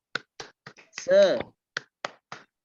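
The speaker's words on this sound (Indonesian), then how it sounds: "mari kita tepuk semangat ya" A class does a rhythmic clapping chant with its teacher during peer teaching, sharp single claps in a steady beat broken by a short sung or shouted word in the middle, close and clear.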